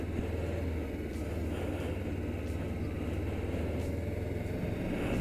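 A motorcycle picks up speed and then has its clutch pulled in as it rolls to a stop, heard as a steady low engine drone with no sharp changes, no talking.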